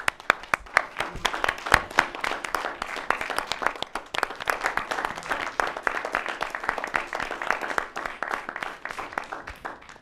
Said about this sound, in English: I want to thank you and give you a round of applause.